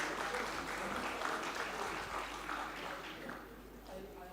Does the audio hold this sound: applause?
yes